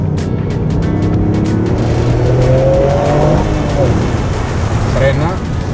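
Toyota GR Yaris engine revving and climbing through the gears on a race track, a loud steady drone with rising tones, heard alongside talk.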